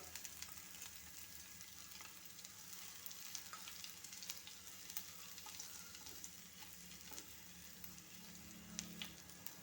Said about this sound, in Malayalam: എന്നിട്ട് നമ്മൾ ഇഞ്ചി പച്ചമുളകും ഇഞ്ചി ഇട്ട് മൂപ്പിക്കാം